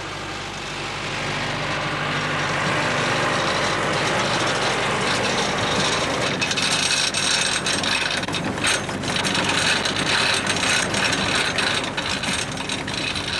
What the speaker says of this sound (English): Loading is carried out using a specially designed pickup elevator.